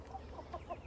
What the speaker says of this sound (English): Chicken drinking out of her poop water.